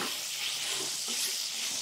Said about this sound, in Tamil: இதோடு சேர்த்து ஒரு நிமிஷம் ஃப்ரை பண்ணலாம்.